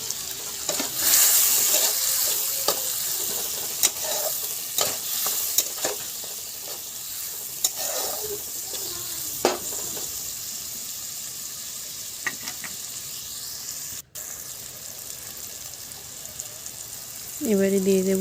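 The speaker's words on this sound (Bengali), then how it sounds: "এবারে ভালো করে নেড়ে নেব আবারও" Prawns being stirred in a pan of malaikari with turmeric and salt, a steady sizzle broken by repeated scraping and clinking strokes of a spoon against the pan, fairly close, with a brief louder clatter near the end.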